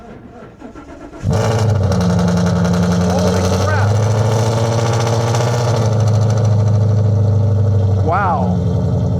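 A car engine cranks and fires up with a loud, sharp burst, then settles into a deep, rumbling idle through a loud exhaust that stays close and strong. A man briefly exclaims over it.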